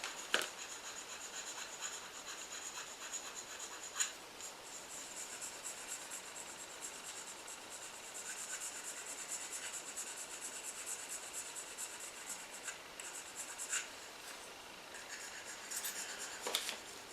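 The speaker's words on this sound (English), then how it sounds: "I need to file this right down to the metal" Steady, quiet rasping of a hand file working the metal of a Dinky Toys Lagonda die-cast model, repeated strokes with a few sharper scrapes, no voices.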